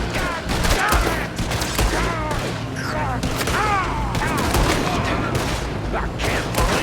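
Dense, continuous gunfire from a film scene, overlapping shots and bursts mixed with loud shouting voices throughout.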